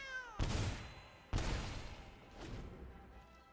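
A cat meows in a Magic: The Gathering digital card game, its brief cry followed by two sharp thudding impacts and a softer third hit, moderately loud with a decaying tail.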